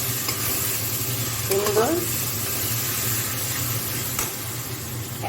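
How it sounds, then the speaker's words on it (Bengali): Spice paste fries in oil for a banana flower and coconut curry, a continuous sizzle with stirring scrapes, and a short spoken word partway through. "দেখো, মশলা থেকে তেল ছেড়ে দিয়েছে"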